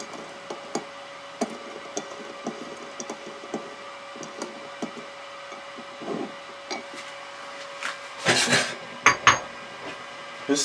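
A metal spoon repeatedly clinks and taps against a pot of ginger herbal tea, light regular ticks at close range, with a few louder scraping clatters toward the end.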